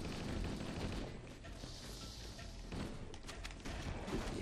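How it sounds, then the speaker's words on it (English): Shotgun fire in the video game Halo Combat Evolved comes as dense, loud blasts over continuous combat noise, with heavy thumps and crackling bursts filling the whole stretch. "Yeah, I love this shotgun."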